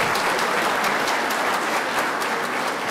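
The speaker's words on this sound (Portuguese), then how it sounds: "Eu peço aos senhores mais uma vez uma salva de palmas a ele e ao Olinto Meirelles" Applause fills a council chamber during a special session, a dense, steady round of clapping from a seated audience that holds at full strength without pause.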